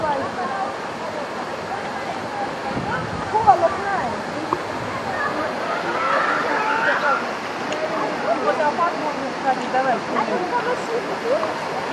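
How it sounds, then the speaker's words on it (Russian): Waterfall near Pshada, a village of dolmens, pours as a steady, broad rushing roar close by, with people talking over it now and then. "вот он этот водопад"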